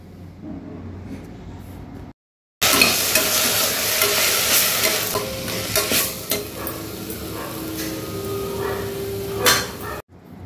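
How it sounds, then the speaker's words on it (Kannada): Mint paste sizzles and fries loudly in a pan for sprouts pulao, with steady crackling and spoon stirring scrapes; a brief silent gap comes near the start and another cut at the end. "ನಾವು ಪುದೀನ ಪೇಸ್ಟ್ ಹಾಕ್ಕೊಂಡ್ಮೇಲೆ 1 ನಿಮಿಷ ನೀರಿನ ಅಂಶ ಹೋಗೋ ತನಕ 1 ಸೆಕೆಂಡ್ ಫ್ರೈ ಮಾಡ್ಕೋಬೇಕು."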